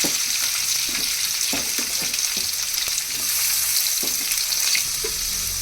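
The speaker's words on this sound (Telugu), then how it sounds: "అందులో తరుక్కున్న అల్లం, ఆనియన్స్, క్యాప్సికమ్ కూడా వేసుకుందాం." Chopped ginger, onion and capsicum frying in oil, a loud, dense, continuous sizzle close up, with faint stirring knocks now and then and no talking.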